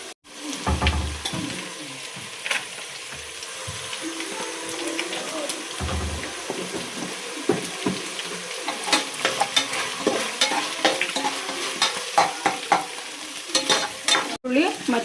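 Onion, sambar greens and ground chilli masala frying and being stirred for a home-style fish curry, a steady close sizzle with scraping stir strokes throughout and brief faint voices.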